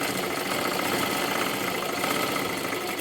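A sewing machine stitching a piping strip runs in a steady, even mechanical whir with a fast rapid rhythm, close and continuous, with no voices.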